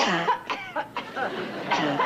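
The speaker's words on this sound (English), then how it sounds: "you should do something for that cough" A woman, a nun, coughs several times in quick, close, harsh bursts with short gaps between them.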